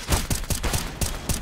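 Rapid bursts of MP9 submachine gun fire in a Counter-Strike match on the Train map, roughly six sharp close shots in quick succession with a steady rhythm, heard alone.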